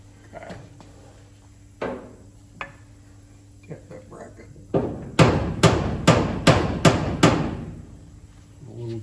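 A small hammer strikes the front end of a 1956 Chevy, first a few scattered knocks, then a quick run of loud, sharp, ringing metallic blows close by, with brief talk in between.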